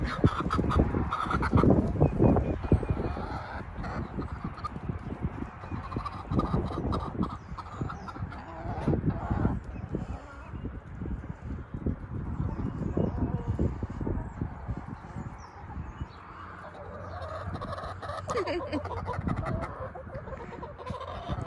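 Several homestead chickens cluck and murmur close by at someone's feet, a steady busy chatter of hens with occasional louder squawks.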